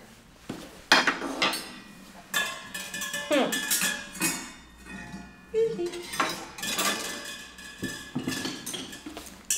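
Wooden cooking spoons strike metal pots with ringing, clanking hits in short rhythmic bursts separated by pauses.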